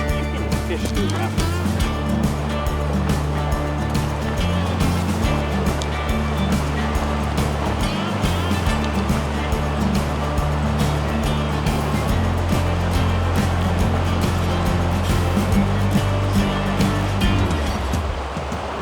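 Fast-flowing mountain river water in the Colorado mountains, a steady loud rushing roar that fills the whole stretch without letup, with people talking over it.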